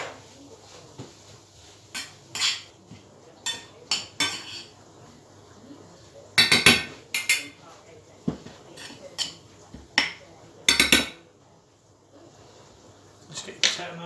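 A metal spoon mashing butter beans in a pot, producing irregular, fairly loud clinks and scrapes against the pot with quiet pauses between strokes.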